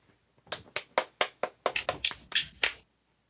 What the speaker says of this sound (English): Here's a clap.